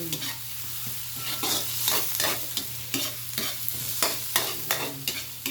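Vegetables and shrimp sizzle in a pan for chop suey, a steady close frying hiss broken by regular scraping stirs of a utensil.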